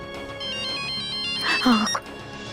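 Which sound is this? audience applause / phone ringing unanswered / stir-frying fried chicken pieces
phone ringing unanswered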